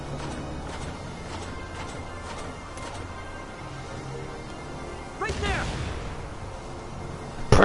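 Mortar rounds fire in Valkyria Chronicles 4: a sharp burst midway, then a hard, loud impact at the very end, over a low game backdrop and what seems to be a voice.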